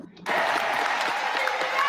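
A large crowd at a presidential campaign kickoff rally bursts into loud, sustained applause and cheering after a quiet moment, a dense wall of clapping that carries on steadily.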